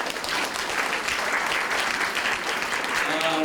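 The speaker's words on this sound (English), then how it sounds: "Please give a hand of applause to your colleagues." An audience at a live event on orchid cultivation claps for colleagues, a broad, steady wash of applause with voices faintly underneath and a short vocal sound near the end.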